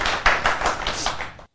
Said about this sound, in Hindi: आप लोग जोरदार तालियां बजाकर उनका सम्मान